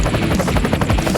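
A real gold helicopter's rotor chops in a loud, steady rhythmic beat of close, repeating pulses, with no talking.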